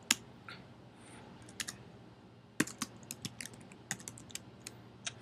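Typing on a computer keyboard: scattered soft key clicks, some in quick clusters, close and faint against a quiet room.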